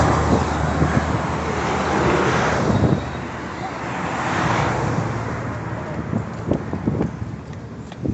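A truck rolls past on a road in Tagaytay, a broad rushing swell that builds and fades amid steady traffic and wind noise, with people talking faintly nearby.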